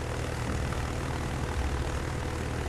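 Propeller-driven carrier attack aircraft engines drone steadily in World of Warships, a constant loud airplane roar without pauses or voices.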